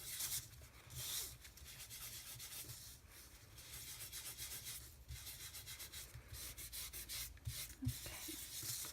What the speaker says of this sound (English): I'm going to rub the dark ink back off again